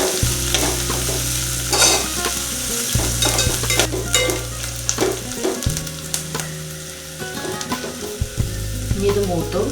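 Green chillies sauté in a hot pan for tomato rice, with a steady sizzle and repeated scraping stirs of a spoon close by, over a background of music and with no talking.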